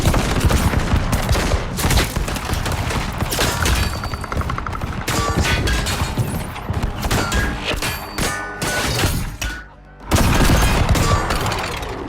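Dense gunfire from a shootout scene in the movie Prey, with loud overlapping shots and impacts in rapid volleys, dropping out for a moment before the shooting resumes.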